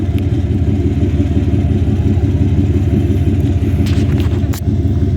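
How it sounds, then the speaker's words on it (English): A pickup truck's engine idles close by in snowy cold, a steady low rumble with a rhythmic throb throughout, a few faint knocks and clatters toward the end. "I don't know if they can hear you with the truck running or not"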